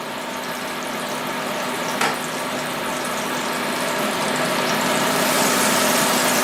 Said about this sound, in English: Putting a tablespoon of butter into a non-stick pan.